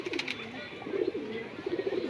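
Pet pigeons kept in a loft coo repeatedly at close range, giving soft, rolling, throaty calls in a steady rhythm with brief pauses between them.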